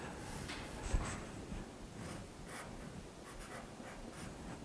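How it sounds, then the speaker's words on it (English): Pen or pencil writing on paper, a soft continuous scratchy scribble heard close up and alone, demonstrating letters for a child learning phonics. "You could write this out."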